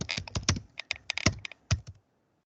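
Computer keyboard keys typed in quick irregular bursts of clicks, close and clear, ending in silence for a Linux chmod command.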